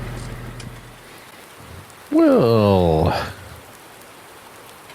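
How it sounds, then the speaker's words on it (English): Steady rain falls in Farming Simulator 19 as a continuous hiss throughout, with someone speaking briefly over it midway. "still raining."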